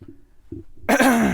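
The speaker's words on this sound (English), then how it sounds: "I just coughed up something mean." A man clears his throat with a few low, muffled hacks, then lets out a louder, harsh, drawn-out cough close up.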